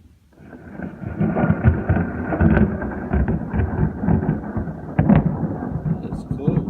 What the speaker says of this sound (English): Not a whole lot of life in this little lightning storm this morning.